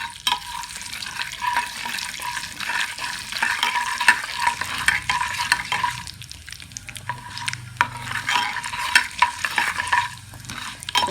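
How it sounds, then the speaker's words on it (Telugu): Mustard seeds and fenugreek fry in a pan with a constant bright sizzle and frequent small crackles and pops, loud and close, without speech. "తర్వాత ఆవాలు కొద్దిగా వేయించుకోవాలి ఫ్రెండ్స్"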